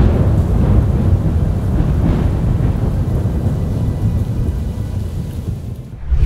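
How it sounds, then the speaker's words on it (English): Roaring thunder rolls through a thunderstorm as a loud, continuous low rumble, steady for most of the stretch, with rain hiss underneath, before it briefly drops away near the end. "resulting in the roaring thunder we hear"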